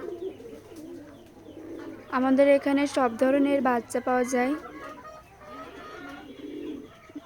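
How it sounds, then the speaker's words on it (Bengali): Pigeons coo on a farm that keeps both local and foreign breeds, a low steady murmur running beneath a man's nearby speech. "কবুতরের খামার।"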